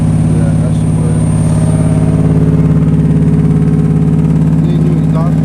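A Nissan 300ZX engine idles steadily at about 2000 RPM with a worn exhaust in need of replacement, a loud, even low-pitched rumble recorded up close that holds constant throughout with no talking over it.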